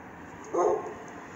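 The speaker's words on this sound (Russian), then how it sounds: "собачки лают, так что как деревня у нас в этом районе" A single short dog bark rings out at a moderate distance in a quiet residential neighbourhood of two-storey cottages, with otherwise calm background.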